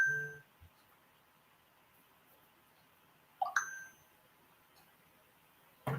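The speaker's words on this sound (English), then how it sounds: "My phone's going off here." A phone gives a short notification chime, and a second chime comes a few seconds later, both faint against a quiet room.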